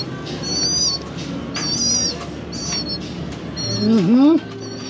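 Pigeons in a loft giving soft, low, repeated coos close by, with higher chirps and a voice talking over them.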